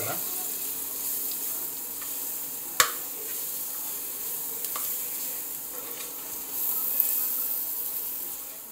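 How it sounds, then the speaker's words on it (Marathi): Ginger, garlic and green chili paste sautéing in a pan with browned onions, a soft continuous sizzle under occasional stirring clinks and a sharp utensil knock, with no talking. "आता आपण अद्रक लसूण मिरचीची पेस्ट टाकू। परतून घ्यायची मस्त।"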